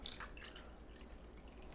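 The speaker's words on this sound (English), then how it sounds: "now we're going to add the water" Water poured into a well of flour and beaten eggs while making pasta dough, a soft steady trickle and splash lasting under two seconds, close and alone.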